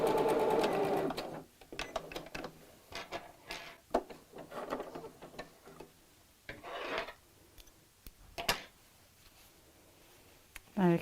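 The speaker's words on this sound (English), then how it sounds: "And I'll sew on the machine." A sewing machine stitches straight across the waistband of a small Barbie doll dress in quick buzzing runs broken by pauses, with light clicks and handling noises in between.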